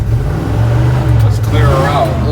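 A 1983 Chevy K10 shorty pickup, a fixer-upper, has its engine running loud and close with a steady deep rumble that swells slightly as it revs, while people talk over it.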